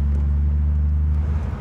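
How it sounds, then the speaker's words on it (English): Ford Falcon XR6T with a turbocharged Barra engine idling close by, a deep steady rumble held evenly through a short moment, no talk over it. "But you can't beat the noise that the car makes."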